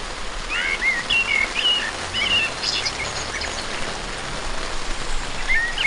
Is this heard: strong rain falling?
yes